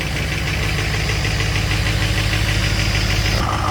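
A Jeep Grand Cherokee WJ engine idles while warming up, a steady, close, continuous rumble with a faint ticking knock and no talk.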